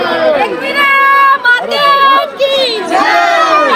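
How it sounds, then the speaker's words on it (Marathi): A dense crowd of pilgrims fills Ekvira temple with loud, close voices, overlapping calls and chant-like shouting that pauses briefly in places. "गर्दी पण तेवढी आहे, पण मजा येते."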